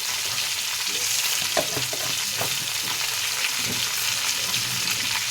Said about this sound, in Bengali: সব ডাঁটা আলুগুলো আমি দিয়ে দিয়েছি, দিয়ে ভেজে নেব।